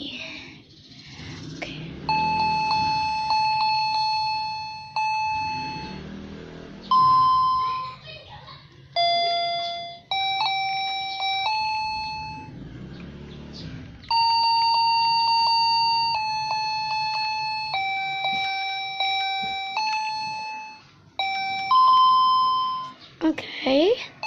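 Jingle Bells plays on a piano as a string of clear, bright single notes with short pauses between phrases, while a voice talks softly in places.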